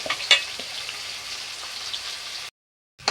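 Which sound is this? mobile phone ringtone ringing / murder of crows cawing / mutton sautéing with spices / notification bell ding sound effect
mutton sautéing with spices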